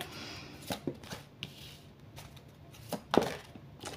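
Oracle cards being shuffled by hand, giving a few soft, quick riffling and tapping sounds spaced out over a quiet room, faint and close.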